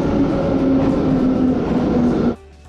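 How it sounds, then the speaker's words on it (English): A Tashkent Metro subway train rumbles loudly with a steady roar and a high whining tone, then the sound drops away suddenly near the end. "the most interesting place to visit in the whole city is the subway"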